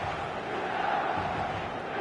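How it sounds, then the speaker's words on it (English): Dense stadium crowd noise at the San Siro in a football video game, a steady roaring murmur of many voices with a slight swell midway, continuous and fairly loud. "the San Siro is buzzing"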